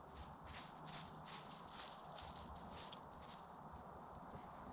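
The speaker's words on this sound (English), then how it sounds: "It's just actually the birds hopping around on the loose leaves." Birds hopping about on loose dry leaves in an English woodland in Essex in August, a steady run of soft rustling crunches like footsteps, fairly faint and continuous with no voices.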